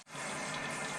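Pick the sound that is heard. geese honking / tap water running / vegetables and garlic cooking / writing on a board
tap water running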